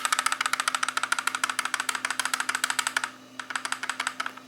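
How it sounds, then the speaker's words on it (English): A rear-view mirror car DVR rattles inside a moving car. The plastic gives a fast, steady run of loud, close clicking with a brief pause, over a low hum. "So that's a rattling noise somewhere here."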